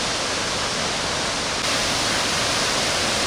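Steady, dense roar of the Tayicsua waterfall on the Bolaven Plateau in Laos, heard from the viewing platforms at its base after a long stairway descent, loud and unbroken with no voices.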